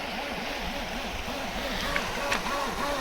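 An FTX Vortex RC speed boat runs on river rapids, its small electric motor giving a wavering, buzzing whine over the constant rush of nearby white water.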